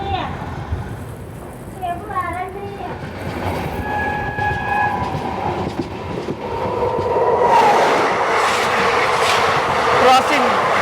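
A Bengaluru–Vijayapura Express train passing on the Indian railway, with a horn sounding several times and a rising rumble of wheels and carriages drawing near, while people talk in the foreground.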